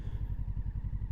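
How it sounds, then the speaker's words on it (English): A Moto Morini 6 1/2 motorcycle rolls along on engine torque alone with little or no throttle, its engine giving a soft, even, rhythmic low thump at close range. "roll the bike just using the torque of the engine."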